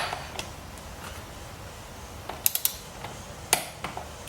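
A torque wrench locks down the rear wheel of a KTM motorcycle to 45 newton meters, giving a few sharp, close clicks and ratchet snaps that stand out against faint garage ambience, with no talking.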